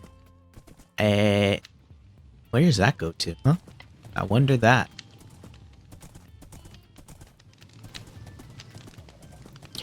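A horse in the Minecraft video game gives a loud whinny, followed by more snorting and neighing calls with soft hoof clip-clops, while someone talks intermittently over the game sounds.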